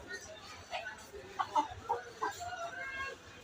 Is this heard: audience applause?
no